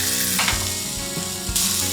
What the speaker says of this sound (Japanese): 香りのない油を大さじ1入れ、そこにきのこを入れます。 火加減はずっと強火です。